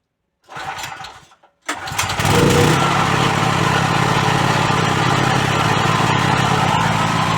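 A gas-powered generator fitted with a gas conversion module cranks with a short failed burst, pauses, then catches and settles into a loud, steady, even-revving run close by; no speech.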